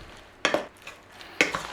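Sliced steak is stirred in a bowl of marinade with corn flour, giving two short wet slapping bursts of mixing, close and soft, with quiet pauses between.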